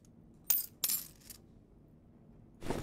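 Two bright metallic clinks of gold coins close together in the game Dark and Darker, a third fainter chink, then another jingle near the end, over a quiet low background hum.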